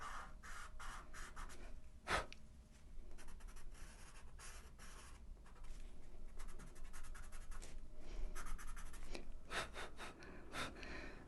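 Soft, steady scratchy strokes of a pastel pencil across paper, continuous and close, with a couple of sharper taps along the way.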